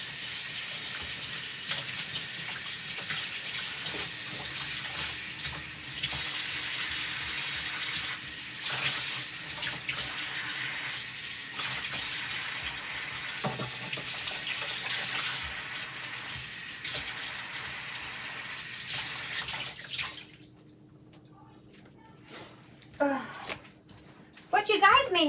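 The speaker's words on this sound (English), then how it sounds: "I'm just going to go to the sink and I'm going to get this paste off so that it can start to dry." Water from a sink tap runs steadily while chalk paste is rinsed off a microfiber cloth, a continuous broad rush with splashy texture that stops abruptly near the end, leaving quieter handling noises and some talk.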